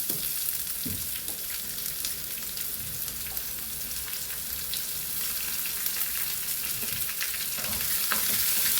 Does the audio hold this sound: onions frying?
yes